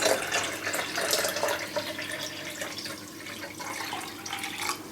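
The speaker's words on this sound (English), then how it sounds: "now I'm just going to fill this with water" Tap water runs steadily into a container while indoor hydroponic and microgreen growing is set up, a continuous splashing flow with no talk over it.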